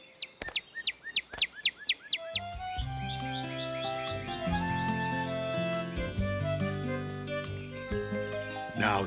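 A cartoon bird calls back with a rapid run of about eight bright, rising chirps. Light tinkling music then swells in and carries on to the end.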